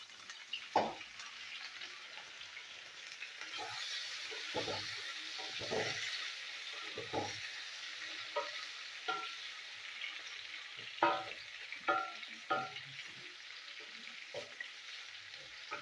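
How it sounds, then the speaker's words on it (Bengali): Raw banana and potato pieces coated with turmeric and salt frying in hot oil, a steady soft sizzle broken by repeated clinks and scrapes of stirring, close up with no talking. "কলাটা একটু ভেজে নিই।"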